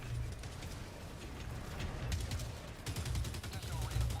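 Gunfire in a multiplayer shooter video game: bursts of rapid shots crackle in clusters, loudest toward the end, with a voice talking over the action.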